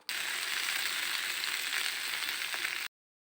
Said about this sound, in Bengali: এই তো আমি তরকারিটা রান্না করার জন্য মশলাটা ভালো করে কষিয়ে নিয়েছি।